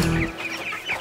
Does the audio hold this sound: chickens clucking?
yes